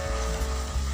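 Hotdog pieces land in a pan of browned ground meat, setting off a loud, steady sizzle of frying that fills the short moment with no voices.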